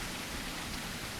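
Steady, even rain hiss fills the whole moment without pauses or distinct drops, faint and continuous, in the dinosaur survival game The Isle Evrima.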